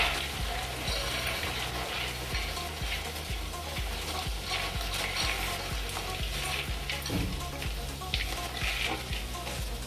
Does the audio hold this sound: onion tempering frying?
yes